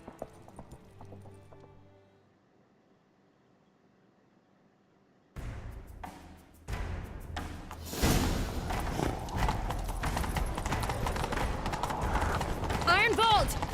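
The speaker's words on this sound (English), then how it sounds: "Grab a horse, we'll chase him down." A horse in The Witcher 3 breaks into a gallop, its steady hoofbeats rising loud and close after a quiet stretch and running continuously to the end, with game music and voices mixed around it.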